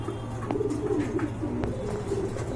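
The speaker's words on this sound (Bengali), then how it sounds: "আরেক জোড়া কবুতর দেখতে পাচ্ছেন" Pigeons coo steadily at a pigeon sale where big-bodied American birds are offered, a soft layered murmur of several birds close by, with no talk heard.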